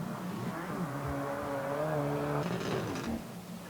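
Subaru rally car on a Great Britain and Ireland Rally Championship stage, its engine note climbing and holding steady in a revving drone for a few seconds before cutting back, heard alone at moderate distance.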